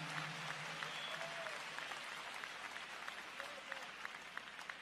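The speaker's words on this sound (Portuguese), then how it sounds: "Aplaudido seja o nosso Deus nesta manhã." Faint, dense applause from a church congregation during a Portuguese-language morning service fills the whole stretch as a low continuous patter, with distant voices and a few tonal sounds under it.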